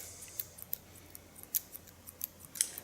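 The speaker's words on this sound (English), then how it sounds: "A slice cut is closing the scissor while you're slicing in the same tempo" Scissors slice-cutting hair during an ultra-short feminine pixie haircut, giving faint, soft snips and brief shearing ticks scattered irregularly through a quiet room, with no talking.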